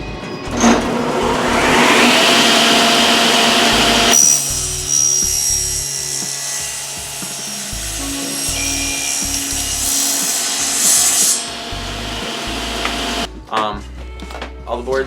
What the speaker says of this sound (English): just running them right through the table saw here